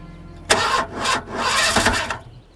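A car engine cranks repeatedly without catching, in bursts of starter whirring separated by short pauses, loud and close with no talk over it.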